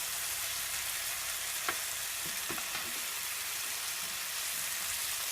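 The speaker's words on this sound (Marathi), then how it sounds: "आता मी मासा टर्न करून घेणार आहे." Tandoori-masala-coated pomfret fries on a hot tawa with a steady, dense sizzle throughout, broken by a few brief clicks and pops as the fish is turned.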